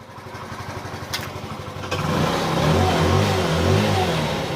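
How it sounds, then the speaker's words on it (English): An AJS Modena motorcycle engine idles with a steady low putter, then swells into a louder, rougher running note that holds fairly close and alone, with no talk. "the engine's running"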